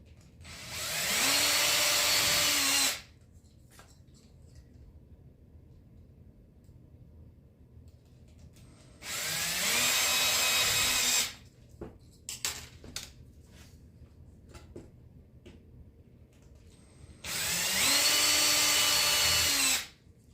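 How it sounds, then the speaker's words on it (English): Three bursts of a high-pitched power drill drilling holes in aircraft rib parts, each lasting a few seconds and revving up then winding down, with quiet clicks and handling noises between. "we'll just go ahead and drill them all"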